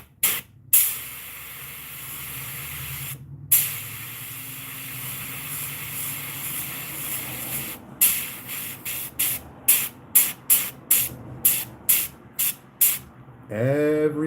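An airbrush sprays paint onto a fishing lure with a juvenile rainbow trout pattern: a long steady hiss broken by short pauses, then a quick run of rapid bursts, close and loud.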